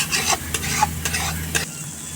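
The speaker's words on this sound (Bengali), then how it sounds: "আমি কিন্তু এখানে সব মশলাগুলো দিয়ে ভালো করে কিন্তু ভেজে নিচ্ছি।" Spices, onion, garlic, green chili and Kashmiri chili powder fry in a pan, with a close hiss and repeated stirring scrapes about every half second. There is no talk.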